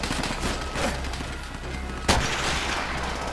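Battlefield gunfire in Call of Duty: World at War, a steady crackle of distant rifle and machine-gun shots with one sharp, louder close shot cutting through near the end.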